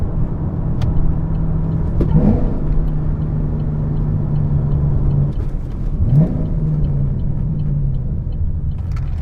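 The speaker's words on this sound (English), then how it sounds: "I'm about to take this over some garbage bumps now." A 2013 Chevrolet Camaro ZL1 with about 130K miles and replaced rear struts rolls over rough bumps, its engine rumbling steadily inside the cabin, with two distinct thumps from the bumps a few seconds apart.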